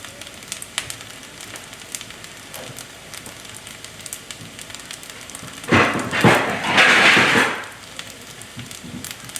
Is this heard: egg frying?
yes